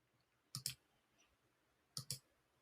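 Two quick double clicks of a computer mouse while building a property list in web software, each pair sharp and close, separated by about a second of quiet.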